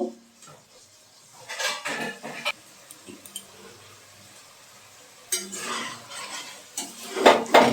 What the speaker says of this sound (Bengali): ডাঁটাটা 2-3 মিনিট রান্না করে নেব।